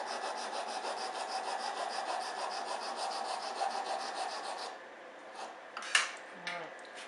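A needle file rasps against a riveted metal hinge in rapid, even back-and-forth strokes, close and continuous, then slowing to a few scattered scrapes and a small metallic clink near the end.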